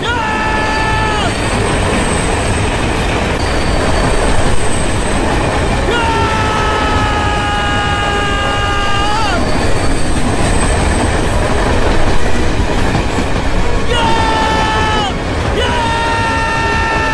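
A train rumbles past in a movie action scene, steady and loud throughout, with repeated high metallic wheel squeals and faint crowd babble in the background.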